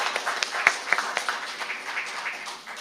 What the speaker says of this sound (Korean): 모두 뜨거운 박수로 환영해 주시면 감사하겠습니다.